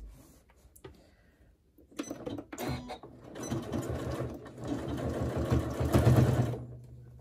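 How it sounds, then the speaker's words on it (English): Sewing machine stitching a seam into the corner of a crossbody bag with a half-inch seam allowance, a steady mechanical whirr that builds from soft starts into a continuous louder run, close up. "Stitching right into the corner there."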